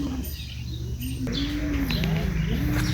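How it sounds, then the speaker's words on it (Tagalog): Racing pigeons sunbathing in a loft, cooing softly in repeated low rolling calls close by, with faint chirps and rustling in the background. "So nandito mga kalapatids, nagbibilad sa araw."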